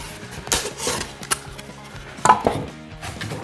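Knife cuts into a GoBoard foam shower pan, giving a few irregular scraping and chopping strokes with short pauses between them at close range.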